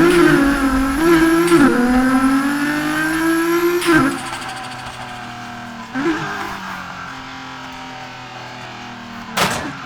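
A tuned Nissan Skyline's engine in Need for Speed Heat revs loudly and close, holding a rough high drone with a few throttle blips and gear shifts before dropping to a lower idle.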